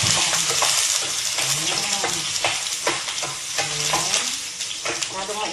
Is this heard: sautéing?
yes